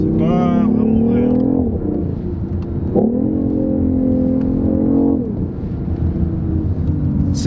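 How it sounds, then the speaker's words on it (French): Synthetic engine sound from a BMW i8 plays through its Harman Kardon audio system: a loud, droning hum that climbs and falls in pitch in two long surges, with speech over it. "est-ce que le bruit sort de le Harman Kardon? Le système audio?"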